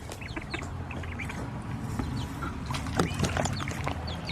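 Chicks and ducks cluck and chirp in a busy store pen, with many overlapping short calls over steady low background noise.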